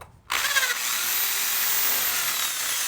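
Power drill starts abruptly and runs at a steady high whine for a few seconds, close and loud, drilling during installation of fluted panels with clips.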